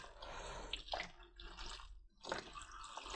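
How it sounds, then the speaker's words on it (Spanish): Water runs and splashes steadily while orchids are watered, a soft gushing flow that briefly breaks off near the middle before resuming, with no talking. "Que corra el agua."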